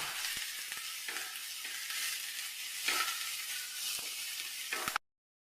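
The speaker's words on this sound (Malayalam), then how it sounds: "ഒരു മീഡിയം സൈസ് 2 സവോള അതുപോലെ ഒന്ന് വഴറ്റിയെടുക്കാം കേട്ടോ" Two medium onions sauté in a pan with ginger and curry leaves, producing a steady, close, hissing sizzle with faint stirring clicks that stops abruptly near the end.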